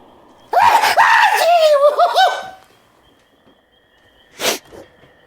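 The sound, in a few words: stylized Deadite sneeze from Evil Dead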